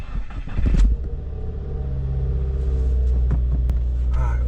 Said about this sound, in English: and then it was time to start the car and see what errors remained.